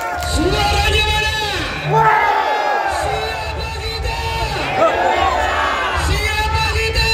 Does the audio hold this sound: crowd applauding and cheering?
yes